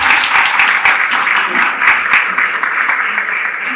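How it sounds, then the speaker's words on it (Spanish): Applause from a gathered audience at a feminist discussion event, welcoming a speaker; steady, dense clapping fills the whole stretch at close range, with no voices over it. "un aplauso para darle la bienvenida a la compañera"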